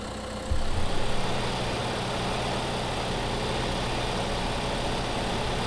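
A tractor in Farming Simulator 2015 revs up and then holds a steady, dense, rumbling drone, its underside grounded in muddy ruts; the sound is loud and continuous, with no speech.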